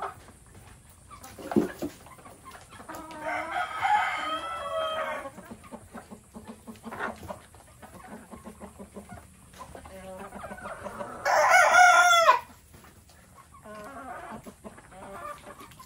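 Chickens cluck and squawk close by, with a loud rooster-like burst in the middle and scattered clucks throughout.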